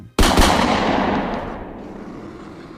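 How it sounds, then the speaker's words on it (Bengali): A double gunshot rings out as a sound effect in a hunting story, fired from atop an elephant: two sharp, loud blasts in quick succession, then a long echoing decay that fades over a couple of seconds. "ও পাশের হাতির ওপর থেকে একেবারে জোড়া বন্দুকের শব্দ হলো"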